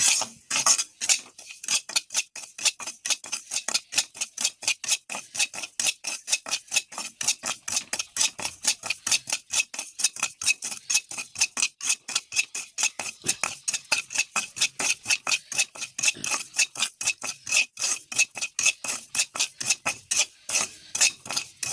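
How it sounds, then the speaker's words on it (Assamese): Semolina (suji) is stirred in a pan with a spoon, producing a fast, steady series of scraping metal strokes, roughly three per second, close and clear without any talking. "চুজিটো ভালকৈ ভাজি লওঁ"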